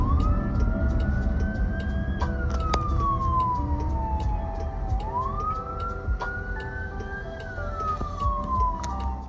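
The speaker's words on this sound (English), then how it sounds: "you'll start to hear a siren off in the distance" Emergency vehicle siren wailing in the distance while riding inside a self-driving car, a steady rising and falling tone over continuous road and cabin rumble, moderately faint.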